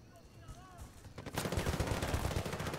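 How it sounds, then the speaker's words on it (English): Rapid bursts of automatic gunfire from the video game Battlefield Bad Company 2 crackle loud and dense, following a quieter opening second. "Sometimes I cannot pinpoint who's shooting."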